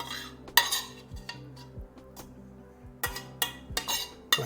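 A spoon scrapes and taps against a pan and dish while a mushroom, onion and garlic mixture is spooned onto a lasagna, a handful of close, sharp clinks amid quiet scraping.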